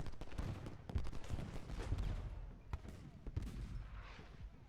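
Artillery and musket fire in the Ultimate General Gettysburg Civil War battle game crack and boom repeatedly, a dense run of irregular shots and low thuds of moderate loudness.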